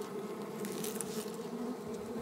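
Wild black Italian honeybees buzz around a nest deep in a tree root outdoors, a dense, steady hum from many insects, close and continuous with no voices.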